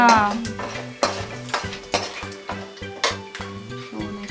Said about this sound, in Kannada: ಘಮ ಗಮ ಗಮ ಅಂತ ಬೆಳ್ಳುಳ್ಳಿ ತಿರ್ಬೇಕು